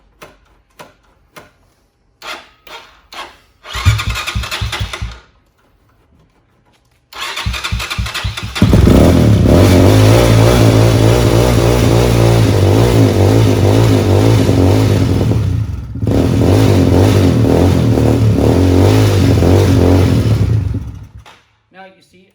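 A motorcycle just out of storage cranks in several short bursts, sputters, and then catches, settling into a loud, steady idle close by before shutting off abruptly; a voice speaks briefly during the cranking.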